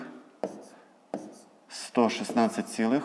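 Pen on paper writing numbers for a long-division problem, with a few short scratchy strokes and taps near the microphone before a person starts speaking over it.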